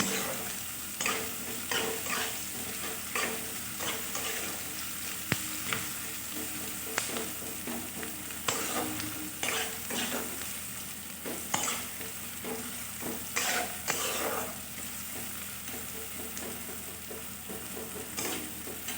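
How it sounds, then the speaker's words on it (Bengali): Semolina sizzles as it fries in a hot pan while a spatula repeatedly scrapes and stirs, giving irregular clinks over a constant frying hiss. "ভালো করে লাল করে ভেজে নেব"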